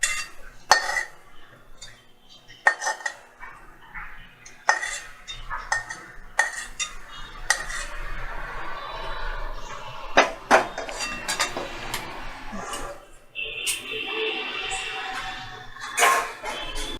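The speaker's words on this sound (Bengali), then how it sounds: "এবার আমি একটা প্লেটে এটাকে সার্ভ করে দেব।" A grated coconut dish is served onto a plate with a spoon, giving irregular clinks and scrapes of cutlery against dishware, some sharp and loud, with quiet gaps between them.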